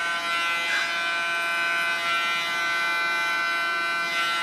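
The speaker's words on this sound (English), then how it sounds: "Just with the tip of my clipper," Electric hair clippers trimming hair at a salon chair, the tip held close, giving a continuous close buzzing hum with a steady motor whine and slight shifts as the blade moves.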